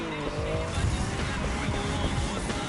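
Race car tires squealing as it slides through turns in The Crew 2's Urban Jam, a continuous engine roar with screeching skid tones, loud and close, with a voice talking over it.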